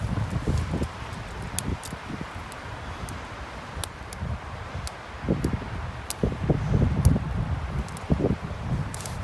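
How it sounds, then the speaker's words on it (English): Strong wind buffets a microphone outdoors during a winter backpacking trip, a steady rumbling roar with gusty surges and occasional light rustling and ticking above it. "It's also extremely windy."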